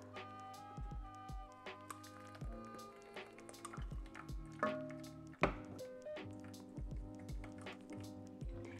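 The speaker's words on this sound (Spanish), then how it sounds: "lo que estoy haciendo es colarlo para que salga toda la semita que sobró" Mole amarillo sauce made with mushrooms is strained through a sieve into a pot, giving quiet wet squishing, dripping and scraping sounds in irregular bursts with small taps against the pot.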